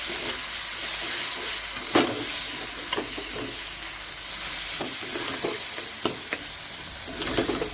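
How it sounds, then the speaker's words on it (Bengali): Soaked soybean chunks fry with spices in a pan, a steady close hiss and sizzle punctuated by occasional sharp scrapes and taps of a stirring spoon. "এবার সয়াবিনটা আমি মশলার সাথে ভেজে নিই"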